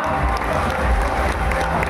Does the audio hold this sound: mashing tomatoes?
no